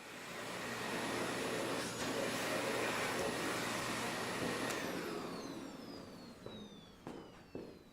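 A Dyson Big Ball Multifloor canister vacuum cleaner runs loud and close with a steady whirring roar, then winds down in the last few seconds to a falling whine and a few light knocks.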